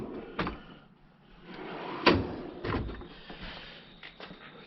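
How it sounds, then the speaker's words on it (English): Drawers of a Harbor Freight single-bank tool chest sliding open and shut, a series of scraping metal glides and bumps spread over several seconds, one sharper clack in the middle, heard close with no talking. "I have kind of been going through some of the drawers, reorganizing as I go."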